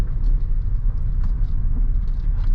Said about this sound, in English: Going over this gravel road